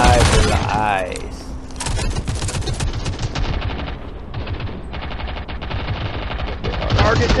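Rapid automatic gunfire in the shooter game Modern Strike Online rattles in dense bursts, loud and continuous, while a game voice and a player talk over it.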